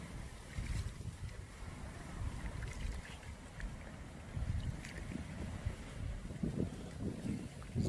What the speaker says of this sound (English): it's very windy, so it makes it very hard to row against